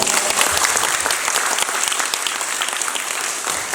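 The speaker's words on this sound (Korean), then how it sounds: "박수 부탁드리겠습니다" An audience at a civic association general meeting and awards ceremony gives a sustained round of applause: a close, even wash of many hands clapping, with little talk.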